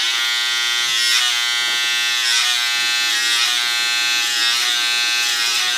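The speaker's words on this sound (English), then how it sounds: "Don't tilt the trimmer like this." Electric hair trimmer buzzing steadily and loudly up close during a line-up haircut, its hum wavering slightly as it moves across the skin, with no talking.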